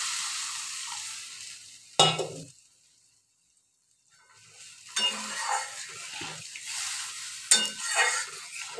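Water pours into a hot pan of Tangra fish curry with tomato and chilli, setting off a loud hiss and sizzle that cuts off and then returns as bubbling and spattering close by.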